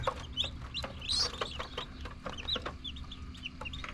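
Newly hatched chicks from incubated chicken eggs peep with repeated short, high chirps, close and fairly loud, with overlapping calls from several birds over a low background rumble.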